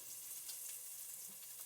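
Red bell peppers fry in a pan beside kale, giving a steady, soft sizzle with faint crackles throughout, quiet and continuous with no talking.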